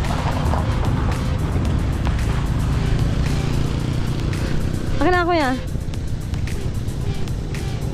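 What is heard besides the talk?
motorized tricycle engine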